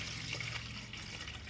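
Water being poured into a blender to make a liquid culture, a steady continuous splashing trickle close by with no talking.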